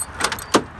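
A pickup truck locks with a short pair of clicks and chirps close by, quiet and quick, in an otherwise still outdoor setting.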